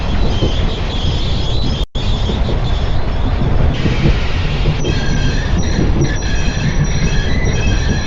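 A train rushes past in an emergency alert scenario, loud and continuous rumbling with squealing wheels and metallic screeches, briefly cutting out for an instant before resuming; no talking.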